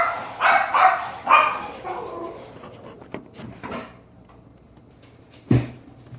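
Several puppies bark and yip in short bursts indoors in a home kitchen, loud and close at first, then scattered whimpers and a final sharp bark, with no talk.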